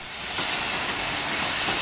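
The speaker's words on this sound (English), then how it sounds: "Number 488 heads down the pass with the caboose, soon followed by number 499." Rio Grande narrow gauge steam locomotive 488 with a caboose, giving a steady, loud, broad steam hiss that holds for nearly two seconds before cutting off abruptly, with no voices.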